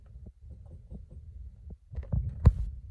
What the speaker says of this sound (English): it shows you right here how it's firing the injectors